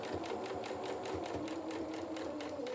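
A sewing machine stitches fabric for a toy cat body, a close, even rapid clatter of needle strokes running continuously without pause.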